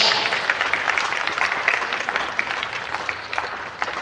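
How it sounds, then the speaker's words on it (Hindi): An audience at a large IAS coaching seminar in a Patna memorial hall claps loudly and continuously, dense applause filling the whole stretch and tapering slightly toward the end. "तो जोरदार तालियां एक बार बजे"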